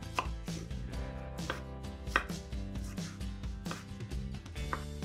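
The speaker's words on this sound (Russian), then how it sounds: "а затем режем их кубиками" A knife dices tomato on a cutting board, a steady run of sharp, close taps with some quicker bursts, over light background music.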